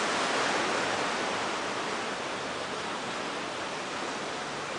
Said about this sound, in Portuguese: A ondulação está forte ainda, olha só o tamanho das ondas quebrando